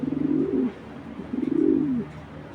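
A pair of racing pigeons from a racing club cooing close by, with two soft, throaty, rolling coos in quick succession.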